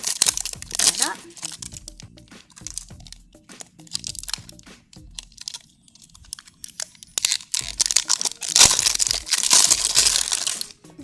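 Crinkly plastic rustling and crunching in bursts as a Pikmi Pops Cheeki Puff toy package is opened, with a zipper rasp near the end, handled close by while someone talks intermittently.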